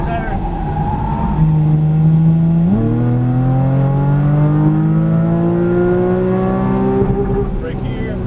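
A Porsche Cayman GTS on a race track, its engine revving hard and climbing steadily in pitch after a gear change, loud and close inside the cabin.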